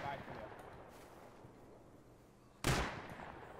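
A single sharp gunshot in the survival game Rust, cutting through quiet background noise after a stretch of low ambient sound, with voices speaking faintly.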